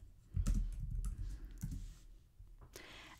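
Keys click irregularly on a computer keyboard as notes are typed into a Sublime text editor, a soft close patter of light taps.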